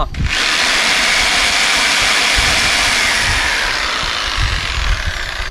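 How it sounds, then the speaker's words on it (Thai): An electric jigsaw starts up abruptly and runs with a loud buzzing whir, its motor rattling steadily close by. "อันนี้เลื่อยจิ๊กซอนะครับ"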